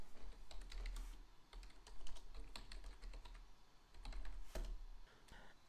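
Rapid keystrokes on a computer keyboard as a terminal command is typed, irregular clicks and taps in bursts with brief pauses, close and clear with no talking.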